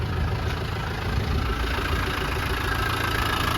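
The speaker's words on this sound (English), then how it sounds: "Pretty standard, smooth running 200 TDI." A 1991 Land Rover Defender 90 with the 200Tdi diesel engine idles smoothly and steadily, a close, constant low rumble with no revving or voices.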